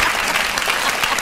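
Audience applause after a stage performance of a play, a dense steady wash of clapping filling the whole short moment with no pauses.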